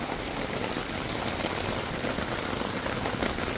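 Heavy rain pours onto an awning beside an open cargo trailer camper, a dense, unbroken roar of drops that stays loud and even throughout.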